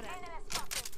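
Several quick bursts of gunfire from an Apex Legends match crackle fairly faintly against a steady background of game sound and voice-like tones.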